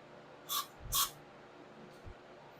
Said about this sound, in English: I got my brake clean. I'm going to throw a little in these orifices.